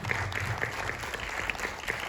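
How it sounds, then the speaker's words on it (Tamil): Audience at a film screening and press conference applauds in a steady, moderately loud patter, with several sharper individual claps standing out over a low rumble of the hall. "இன்னைக்கு நல்லா கை தட்டுங்க"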